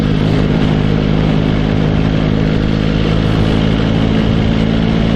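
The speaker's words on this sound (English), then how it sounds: "Very gently, just bring the bike in, watching the driveways." Motorcycle ridden gently along a rough, potholed road past driveways, with a steady mid-pitched engine drone and broadband road and wind rumble running continuously at constant loudness.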